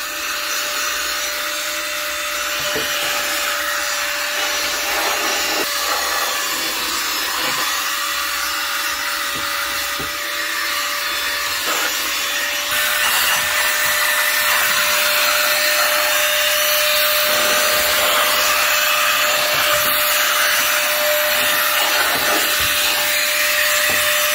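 A cordless air blower blasts dust out of a PC with a loud, steady, close whine, holding continuously throughout and rising slightly in pitch and intensity partway through.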